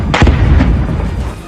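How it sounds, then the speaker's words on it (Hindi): Loud booming blasts from bombs exploding over Stepanakert at night, a heavy close impact followed by rolling, rumbling echoes and a second thud, with no voices. "रात के अंधेरे में हुए इन जोरदार धमाकों की गूंज से पूरा इलाका सहम उठा।"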